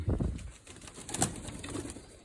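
Racing pigeons back from training coo at their loft in a short low burst, with a brief flutter of wings in the middle.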